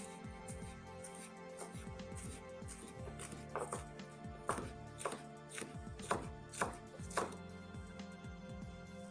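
A knife finely slicing a chili pepper on a cutting board, heard as a steady run of crisp, close chopping taps that grow louder and sharper toward the end, with no talk.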